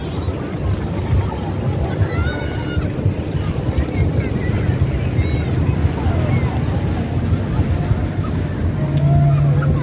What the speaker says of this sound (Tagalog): Ganda pagmasdan ng alon. Yung taas ng alon.